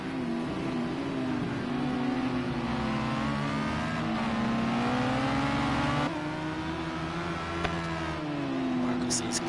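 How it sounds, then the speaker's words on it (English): A Radical SR3 race car drives hard around the Catalunya circuit, its engine droning and rising and falling steadily through gear changes, with commentators talking over the continuous motor sound. "I don't think he's in fuel conservation, but I think he really is trying to push the car."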